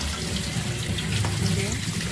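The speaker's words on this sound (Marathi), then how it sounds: "आपण एका चाळणीत हे सगळं कांद्याची पात व्यवस्थित भिजवून घेणार आहे. चांगल्या पाण्याने" Tap water runs steadily over spring onion greens held in a sieve under a kitchen faucet, a continuous close splashing wash with no clear breaks.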